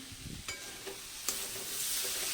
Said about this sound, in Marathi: असं फास्ट गॅसवर नुसतं मिक्स करून घ्यायचं आणि गॅस बंद करायचा आहे